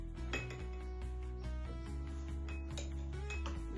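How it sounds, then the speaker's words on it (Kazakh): Spoonfuls of salt dropped into a glass of water during a children's classroom experiment, with repeated clinks of a spoon against glass and some background hum in a steady sequence. "Келесі, үшінші стақанымызға 3 қасық тұз сала ғой."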